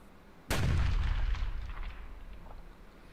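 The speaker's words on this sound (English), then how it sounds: "Definitely sounds a lot like dynamite." A dynamite blast in a video game goes off suddenly, loud and close, then trails into a long rumbling decay over the next few seconds. No one speaks.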